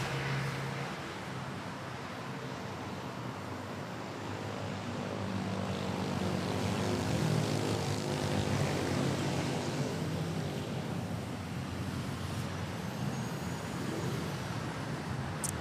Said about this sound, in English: Of this Philippine Airlines A321 off to Da Nang,